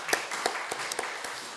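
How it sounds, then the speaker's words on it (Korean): Church congregation clapping during a Korean worship service, a handful of separate, fairly faint claps at an uneven pace. "하나님께 영광의 박수 돌려드리겠습니다"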